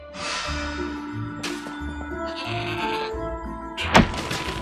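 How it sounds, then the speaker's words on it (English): A goat in the Trine 4 video game bleats in several drawn-out, wavering calls over soft game music, with a sharp thunk near the end. "What an amazing goat!"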